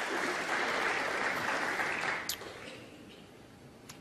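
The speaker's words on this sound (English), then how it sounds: "Crowd appreciated" A snooker crowd at The Masters 2018 quarter-final applauds a pot, with steady loud clapping that fades after about two seconds to a quieter patter.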